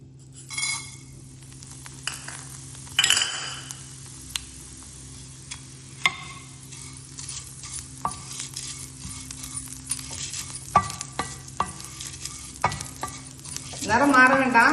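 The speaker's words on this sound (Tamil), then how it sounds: "இப்போ நம்ம சேமியாவை வறுத்துடலாம்" Vermicelli (semiya) roasts in a pan with repeated scraping and stirring strokes and sharp clicks of a spatula against metal, close-up over a faint sizzle, irregular taps building to a louder scrape at the end.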